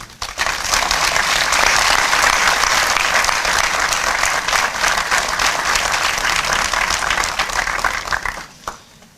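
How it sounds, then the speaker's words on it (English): Audience members at a 100 Men of Color event clap in a loud, dense round of applause that holds strong for several seconds before fading out near the end. "Please join me in clapping for these wonderful men."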